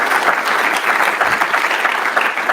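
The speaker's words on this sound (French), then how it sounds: "Peut-être déjà les applaudir pour leur remercier de cette retour d'expérience." Audience applause at a keynote by the LOSC physical trainers, a steady, dense burst of clapping from a room full of people with no talk.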